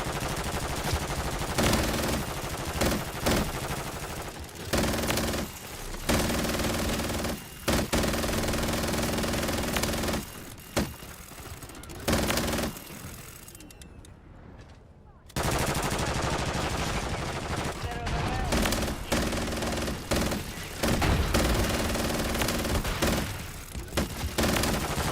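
Bursts of automatic gunfire from a teammate in a shooting video game, loud rapid rattling volleys repeating across the stretch with only short gaps of quiet between.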